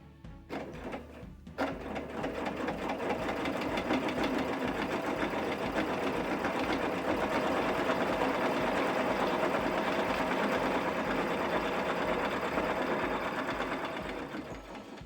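A sewing machine stitches a quilted pillow in a long, even run of rapid mechanical clatter that starts after a few short bursts, steady and close, then eases slightly near the end.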